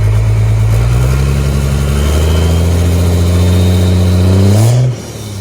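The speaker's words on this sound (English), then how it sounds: "let you listen to that Cummins" A Cummins diesel engine with a 4-inch MBRP exhaust and muffler runs close and loud, revving steadily upward in a deep droning rise before dropping back sharply near the end.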